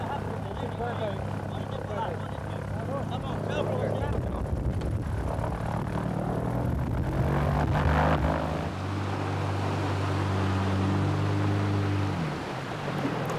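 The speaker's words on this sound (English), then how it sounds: "The pilots often run high risks when taking off in aircraft overloaded with hundreds of skins." A propeller aircraft overloaded with caiman skins takes off in the Pantanal wetlands. Its engine drones steadily and swells in strength partway through, with a voice talking underneath.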